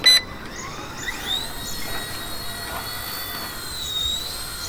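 A Firefox C129 four-channel RC helicopter from Hobbywing spins up for a one-button takeoff: a close, steady high-pitched motor and rotor whine that rises in pitch after a short click, with no voices.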